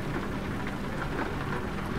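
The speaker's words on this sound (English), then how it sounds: "That's some heavy rain coming down." Heavy rain pounds steadily on a truck in Euro Truck Simulator 2, a dense, loud, unbroken hiss of drops with a low rumble underneath.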